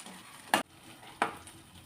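Ground masala frying in oil for stuffed brinjal with drumsticks, a faint sizzle broken by two sharp stirring scrapes of a spoon in the pan.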